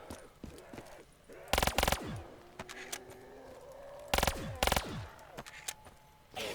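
RK5 pistol fire in a zombies video game, heard as two quick paired bursts of loud shots about two and a half seconds apart, over a low game ambience with scattered small clicks and effects.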